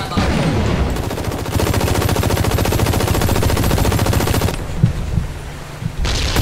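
Rapid automatic gunfire rattles in the co-op shooter Hazard Ops. The shots aimed at the player arrive as loud, dense, continuous bursts with a fast, even rhythm, followed by a few scattered impacts.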